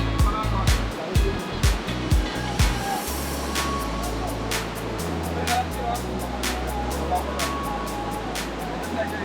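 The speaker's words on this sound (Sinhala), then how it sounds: "මේ උඩින් ඉඳලා වැටෙන වතුර පාර මෙතනට එකතු වෙලා තමයි පල්ලෙහාට යන්නේ" Water from a waterfall at Kithulanda runs down a stream after rain, giving a steady rushing flow, with someone speaking over it and a few low thumps near the start.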